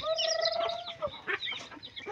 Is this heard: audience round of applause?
no